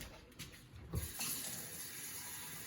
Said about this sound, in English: First, put hot water.